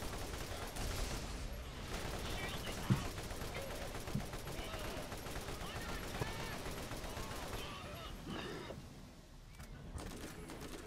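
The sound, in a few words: gunfire in the video game Borderlands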